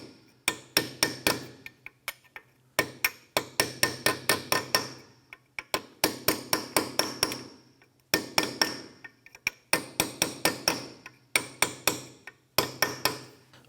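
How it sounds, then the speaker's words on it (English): Sharp hammer blows drive a small punch while a rear wheel bearing and hub assembly is replaced on a 2004-2008 Acura TL, landing in quick bursts of several strikes with short pauses between, close and loud with no talking. "I'm going to use a small punch here."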